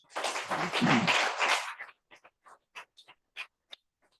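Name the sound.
audience applause for the speaker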